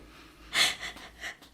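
Heavy breathing from a distressed woman: a few breathy huffs, the first and loudest followed by two or three softer exhalations, close and unaccompanied by speech.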